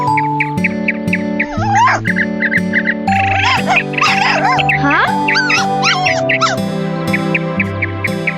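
A cartoon dog in a children's story cartoon whimpers and yelps in wavering, pitch-sliding cries over a steady musical backing, loud and close, with no talking.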